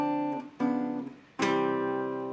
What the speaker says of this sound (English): I wanted to just demonstrate what that tritone substitution is like.